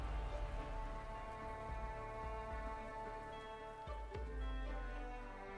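Steady rain patters on surfaces in the Arknights video game, a continuous soft hiss of drops layered under a sustained musical backing, with no talking.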